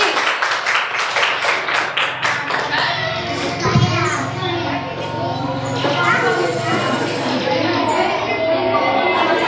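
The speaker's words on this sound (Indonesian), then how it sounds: "Tepuk tangan buat kelinci." Kindergarten children at a school event clap together in a noisy burst of applause, mixed with excited kids' voices and chatter in a lively room.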